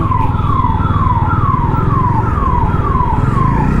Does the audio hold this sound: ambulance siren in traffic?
yes